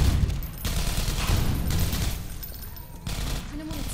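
Automated turrets in Half-Life 2: Episode One fire sustained rattling bursts, loud and nearby, that pause briefly and resume, with a voice talking over part of it.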